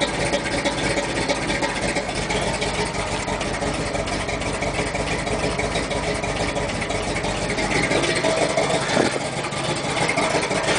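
Big block V8 engine idling with a shifter fitted, running at a steady, loud, lumpy rumble close by for the whole stretch, with no talking.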